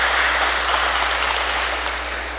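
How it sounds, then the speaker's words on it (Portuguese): A church congregation applauding to welcome a friar at a Sunday morning Mass, a steady, even patter of many hands clapping that fades slightly toward the end, with no talk. "Eu queria que vocês pudessem acolhê-lo com esta salva de palmas por esse bom dia"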